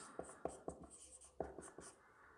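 Chalk or marker strokes on a board during a maths lecture, a quick run of short taps and scratches in uneven rhythm, close and clear with no talk over them.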